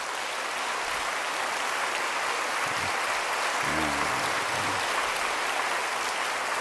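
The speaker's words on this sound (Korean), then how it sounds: "박수로 한번 환영해 주시면 좋겠습니다" Steady applause from a large church congregation, a dense wash of clapping that holds at an even level throughout.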